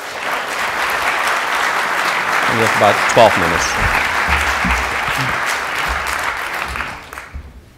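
A conference audience gives a sustained, warm round of applause welcoming a speaker at an event on oil prices and geopolitics; the even clapping fills several seconds while a voice speaks over it before it tapers off.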